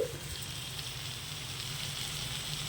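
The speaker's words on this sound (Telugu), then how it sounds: "గోంగూర వేసుకొని ఇట్లా కలుపుతూ ఉండాలి" Gongura leaves sizzle and fry in oil in a pan on a high flame while being stirred, producing a steady, close, crackling hiss that holds without a break and has no voices over it.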